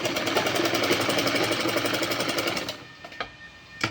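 Sewing machine stitching suit fabric, a fast, steady mechanical whir with rapid rhythmic clatter that stops near the end, followed by a few light clicks.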